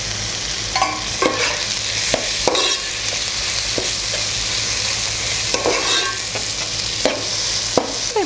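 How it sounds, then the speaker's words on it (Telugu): Tomatoes sizzling steadily in hot oil in a pan for chicken biryani, close and constant, with intermittent scraping strokes of a spoon stirring them. "So tomatoes వేసేస్తాము."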